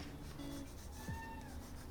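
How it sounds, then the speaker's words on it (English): A cat outside wanting to come back in gives a faint meow in the distance, one short cry heard through low background noise. "there's a kitty outside that wants to come back in."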